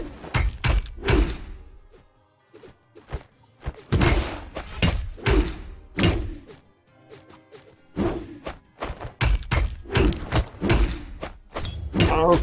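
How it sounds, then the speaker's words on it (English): A weapon is thrown in the Brawlhalla fighting game, heard as repeated loud thunks and thwacks in quick bursts among other game impacts, up close with no talk. "I can throw this weapon like so."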